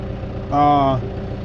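A small farm tractor idles steadily with a low, even rumble while round bales are being moved, and a brief voice sound rises over the engine near the middle.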